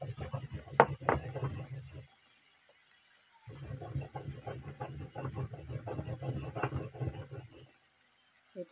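Spices ground on a shil-pata grinding stone: close, rough rhythmic scraping and grinding strokes in two runs, separated by a short pause.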